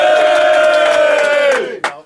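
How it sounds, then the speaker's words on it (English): A crowd lets out a loud, sustained collective shout and cheer for about a second and a half, then it fades and a brief final yell rises near the end. "he deserves a wonderful round of applause for it"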